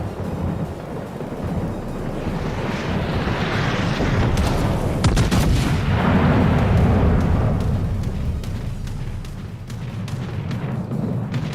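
Naval gunfire in the World of Warships video game: heavy, rolling booms that swell and overlap into a continuous loud rumble, peaking midway and sustained throughout, with no talk.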